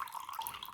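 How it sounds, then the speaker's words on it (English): Rinsing water poured off soaked rice, a brief soft splashing trickle, close and quiet with no voices. "And now I'm pouring the water out."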